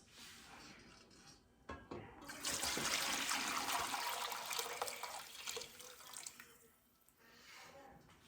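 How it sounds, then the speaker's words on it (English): Homemade ham bone and chicken bone broth pouring through a strainer, a steady splashing liquid rush lasting several seconds that swells and then tapers off. "I'm gonna pour the rest of this broth through the strainer."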